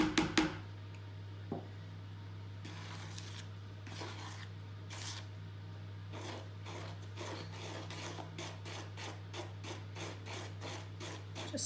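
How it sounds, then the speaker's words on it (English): Self-raising flour is stirred slowly into marble cake batter in a bowl, giving soft, intermittent scraping and rubbing strokes over a steady low background hum. "Just stirring slowly to begin with, otherwise we get a cloud of flour in our faces."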